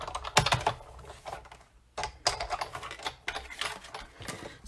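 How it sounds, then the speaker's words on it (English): A cutter run through two layers of cardstock for a peek-a-boo fold card, giving repeated close scraping, ticking passes in three bursts with brief pauses. "So go ahead and cut through both layers. And I usually run it through twice when I'm cutting through 2 layers."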